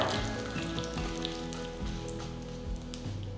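Mustard seeds and cumin splutter in hot oil, a continuous close crackle of rapid pops and sizzling like rain on a surface, loud and steady throughout.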